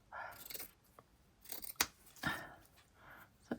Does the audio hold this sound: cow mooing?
no